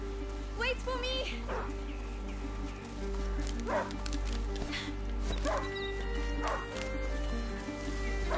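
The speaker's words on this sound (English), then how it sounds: "Angry dog. He must have smelled the rabbit." An angry hunting dog barks repeatedly in A Plague Tale: Innocence, several sharp barks spread across the scene over a low game ambience, with voices speaking nearby.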